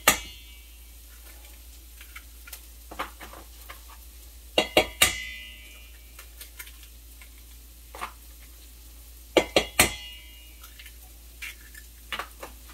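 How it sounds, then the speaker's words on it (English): Eggs are cracked into a bowl: a few sharp, close taps and cracks come in short clusters, separated by quiet stretches with faint clinks in between. "So I'm just cracking the eggs into a bowl here"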